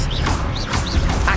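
A brief Expelliarmus spell from the Hogwarts Legacy video game: a quick magical effect of rising and falling tonal sweeps over a dense rumbling burst, lasting just over a second.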